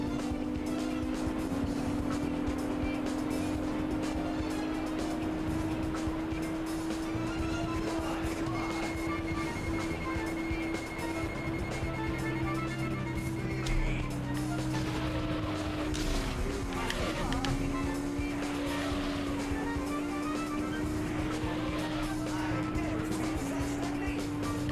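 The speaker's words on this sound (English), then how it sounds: "Car sounds very bassy. And a low hum to its mufflers." A bassy car engine in the racing video game Auto Modellista drones steadily with a low muffler hum throughout, holding a sustained pitch that dips slightly now and then.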